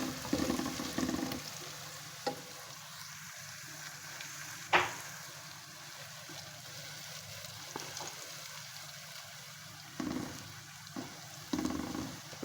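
Cumin, garlic and ginger frying in hot oil for aloo keema, a quiet continuous sizzle broken by a few clattering stirs and spoon knocks against the pan, with no voices.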